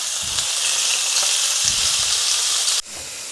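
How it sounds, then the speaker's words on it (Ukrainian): Pieces of chicken breast fry in a pan with a loud, dense, steady sizzle and a few low stirring thumps, the hiss dropping abruptly just before the end. "І обсмажуємо до красивого золотистого кольору."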